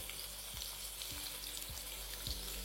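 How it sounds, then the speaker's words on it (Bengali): Thinly sliced onions, three of them, fry in a pan for a chicken dish, a steady broadband sizzle throughout, with a few low knocks of a spatula against the pan at regular intervals. "আর পেঁয়াজটা দেওয়ার পরে এটাকে ভালো করে একটু ভেজে নিন"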